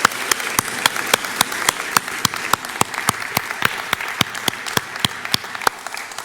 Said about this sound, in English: I hope you can hear the warmth of the applause here in Glasgow, where you're talking to a room of about 200 people